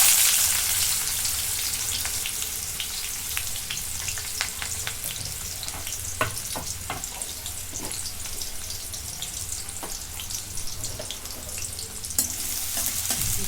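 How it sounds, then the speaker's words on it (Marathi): Onion frying in hot oil with cumin in a wok, a steady dense sizzle with scattered crackles and occasional stirring scrapes, close and continuous with no talking. "कांदा चांगला भाजून घेतो कांदा भाजून झालेला आहे"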